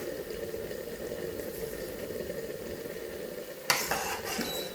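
Corn flour (maize meal) is stirred into warm water in a pot for Zambian nshima, giving a steady bubbling, sloshing noise, followed by a sharper clatter and a splash near the end.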